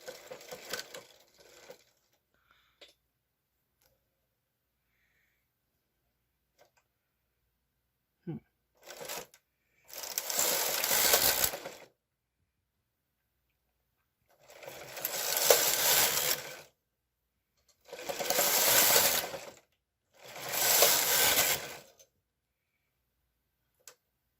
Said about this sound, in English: I will knit one more instance of the cherry